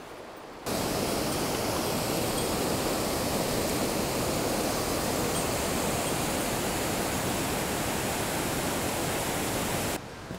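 A small waterfall on the Yukawa stream in Oku-Nikko roars as a steady, close, broadband rush of falling water that holds constant for nearly ten seconds, with no voices.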